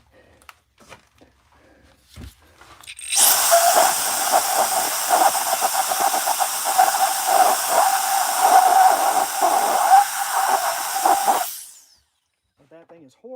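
Loud continuous hiss of compressed air blowing dust out of a piece of Tree of Heaven wood on a lathe, a steady blast lasting about eight seconds before cutting off, with quiet shop sounds around it.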